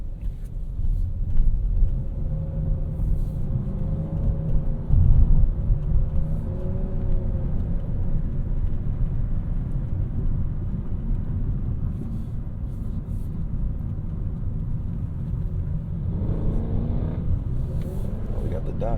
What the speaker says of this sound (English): it's going to make the engine rev up faster or hold its RPMs higher